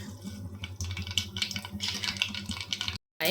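Mustard seeds crackle and sputter in hot oil in a pan, giving a busy run of close, sharp pops and sizzles with a brief break of silence near the end.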